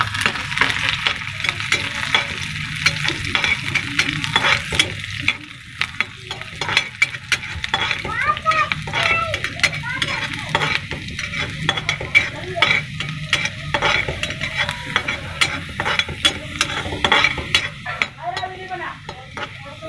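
Finely chopped garlic and green chili sizzle in a pan, a steady fry broken by repeated scraping and stirring strokes of a spoon, close and continuous throughout.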